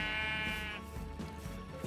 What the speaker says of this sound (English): Okay, we found a sheep this time.